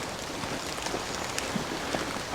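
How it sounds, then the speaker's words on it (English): Rain falling through a tree canopy in woods by a river, a steady diffuse hiss with scattered drips and small taps, moderately close, no voices. "that's the rain coming through the canopy of trees"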